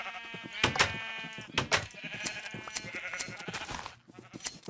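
Sheep bleating in a farming video game, several harmonic bleats overlapping one another at close range, loud and fairly continuous across the whole stretch with no talk.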